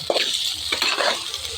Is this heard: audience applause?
no